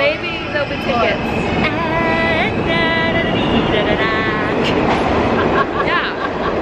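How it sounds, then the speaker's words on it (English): New York subway train running with steady rumble and rising, falling whine-like tones throughout, loud and close, with a voice talking faintly over it. "I'm in the subway right now."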